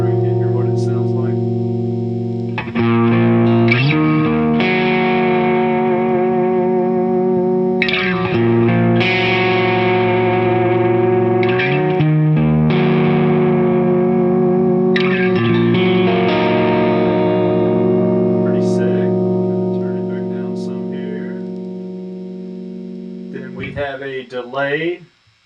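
Seven-string electric guitar through the Hughes & Kettner Coreblade amp simulator plugin, distorted tone, loud chords and held notes with echoing tails, fading out near the end.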